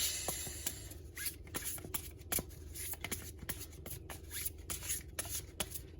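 A deck of tarot cards is shuffled and drawn by hand in a steady run of soft riffling and flicking snaps, close up and alone with no talking.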